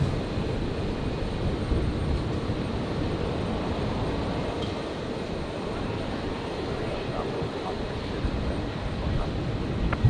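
A Virgin Boeing 737-800 taxiing out toward runway 01 right for departure at Brisbane airport, a steady low engine rumble and hiss at moderate distance, continuous with no talk.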